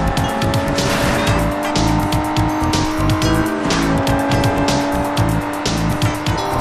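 A car accelerating hard on nitrous in the Sleeping Dogs video game: a loud, sustained engine roar with tire squeal and skidding, constant and close with no talking.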